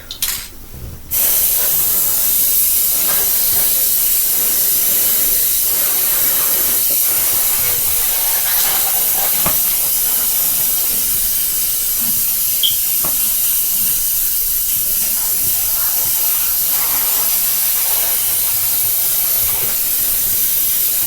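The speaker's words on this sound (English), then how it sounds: "I wonder if it's just the type of spray paint." An aerosol spray paint can sprays in a long, continuous hiss that holds steady and loud for about twenty seconds after a brief start.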